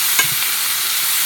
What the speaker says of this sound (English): And I like to go ahead and add some onions, so those onions start browning.